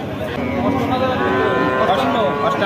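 At a cattle market, a calf moos in a long, loud call up close, set against a busy crowd murmur with people talking.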